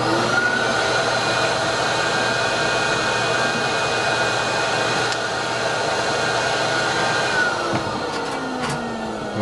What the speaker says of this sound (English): It's a bit dusty, so I'm going to vacuum it quickly.